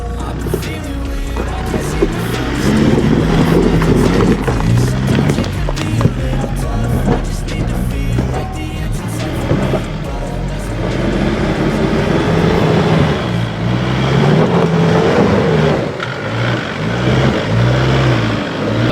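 An off-road vehicle engine labours up a shaly hill track, a steady loud rumble with shifting low tones and crunching, rattling texture throughout, close and continuous with no talk.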